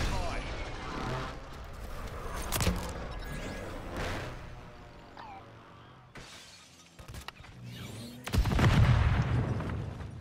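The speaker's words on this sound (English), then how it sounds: "Enemy precision airstrike." Precision airstrike explosions in Call of Duty: sharp, loud blasts with shattering debris, spaced over several seconds, mixed with gunfire and voices talking.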